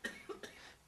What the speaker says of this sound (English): Coughing, throat's clearing.